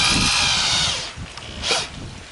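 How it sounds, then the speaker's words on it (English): A power drill whines loudly at close range as it drives a screw through shade cloth, then stops; a second short burst follows before the motor winds down. "So I'm just going to start my screw through here."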